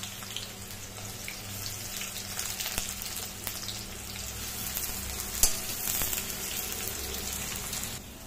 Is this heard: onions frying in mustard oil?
yes